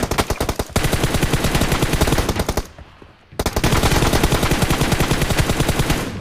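Rapid bursts of automatic gunfire from a shooting video game in a team deathmatch, loud and continuous, broken by one short pause before the firing resumes.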